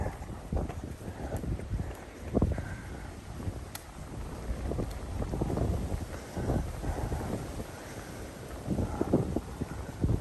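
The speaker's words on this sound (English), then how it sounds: "A little bit of wind." Gusty wind buffets the microphone on an open ridge trail in a regional park, a fairly quiet, uneven rumbling roar that swells and dips throughout with no voices.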